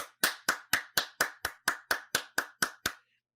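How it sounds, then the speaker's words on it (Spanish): Single pair of hands clapping in a steady, even rhythm, about twelve sharp, close claps spaced a quarter second apart during a live stream discussing Comic-Con trailers, then silence. "un gran aplauso"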